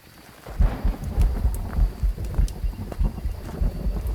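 A low, thumping heartbeat from the horror video game Phasmophobia pulses in a dull, muffled rhythm under a rumbling, noisy game ambience.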